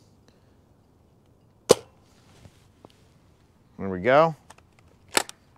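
Nerf Rival Curve Shot Flex XXI-100 blaster firing Nerf rounds: a sharp single snap, a few faint clicks, then another crisp shot near the end, with a short spoken phrase in between.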